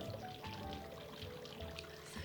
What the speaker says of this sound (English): and we can pour in our drink